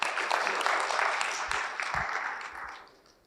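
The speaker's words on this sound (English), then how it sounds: "let's just give a round of applause for this paper." Conference audience applauding an award-winning paper at an academic visualization event, a brief burst of clapping that fades out toward the end.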